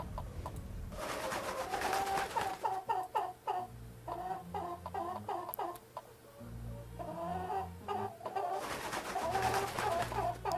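Chickens in a video game cluck and coo in repeated bursts over a low synthesized musical backing, the clucking loud and close, with a quieter stretch in the middle.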